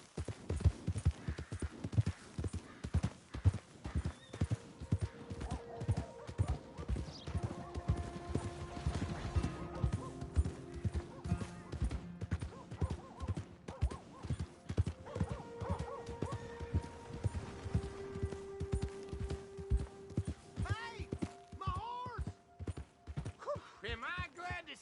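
Horse hooves clip-clop steadily through a Red Dead Redemption 2 game scene, with occasional whinnies and neighs rising over the trotting, while people talk throughout.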